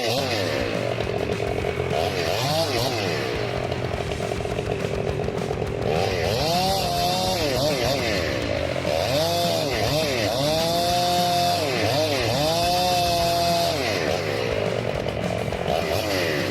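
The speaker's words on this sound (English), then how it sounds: "The chainsaw doesn't hesitate. It presses forward steadily, its motor deepening in tone with every centimeter." A chainsaw roars steadily, its engine pitch rising and falling in repeated swells as it bites into wood, loud and close throughout.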